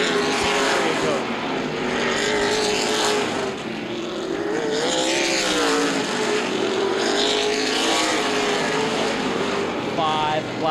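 Late model sportsman race cars roar around Anderson Speedway in a CRA season opener, engines wailing and rising and falling continuously as they circle, loud and close, with a commentator's voice faintly underneath.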